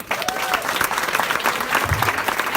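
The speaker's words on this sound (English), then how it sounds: "Round of applause." An audience at a women's retreat bursts into a round of applause, a steady, dense wash of many hands clapping close by that fills the whole moment, with faint voices mixed into the crowd.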